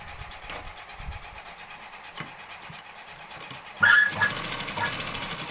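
A sewing machine runs in a steady mechanical whir while stitching an old saree into a long frock, close up and without talk, growing louder and busier toward the end.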